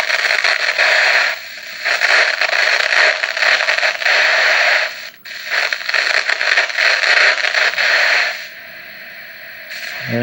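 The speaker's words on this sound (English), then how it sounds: "it does look like some static is coming through" An old 1985 GoldStar black-and-white TV hisses with loud, harsh static, a crackling wash that drops out briefly twice before settling into a quieter hiss at the end.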